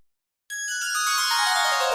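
A phone ringtone starts abruptly after a brief silence, a bright steady electronic ring at constant volume with no talk over it.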